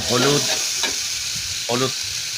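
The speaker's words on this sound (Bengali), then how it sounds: "লবণ দেওয়ার পরে ভালো করে আবার নেড়ে চেড়ে বাদামি রূপ দেওয়া হচ্ছে অল্প আঁচে" Prawns fry with salt over low heat as a utensil stirs them, giving a steady close sizzle with a few scraping strokes of the spoon against the pan.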